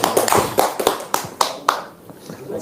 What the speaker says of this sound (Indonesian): Tepuk tangan dong bos.